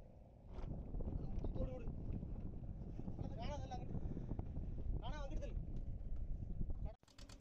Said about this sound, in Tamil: காற்றுமே வந்து ரொம்ப அதிகமாக அடிக்க ஆரம்பிச்சிட்டு